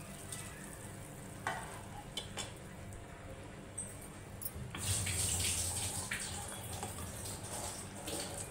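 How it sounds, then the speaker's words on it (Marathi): Soaked rice goes into boiling water with ghee for quick spiced masale bhaat: a quiet bubbling simmer, then a sudden splashing, hissing pour about halfway through that settles back into a steady bubble. "पाण्याला उकळी आलेली आहे, आपण त्याच्यामध्ये भिजवलेला तांदूळ घालतोय"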